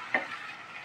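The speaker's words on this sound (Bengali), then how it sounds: "এবার এটাকে একটু হালকা করে একটু ভেজে নেব" Onion with ginger-garlic paste frying in oil for a capsicum chicken dish, a quiet, close, continuous sizzle with one brief scraping stir near the start and no talk.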